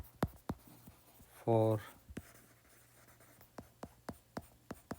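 Pen writing out a physics optics solution on paper, a series of short scratchy strokes, with a voice briefly speaking over the writing.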